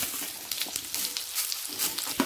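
Potato pieces sizzle and crackle in hot oil in a pan, a steady close frying hiss with occasional spatters.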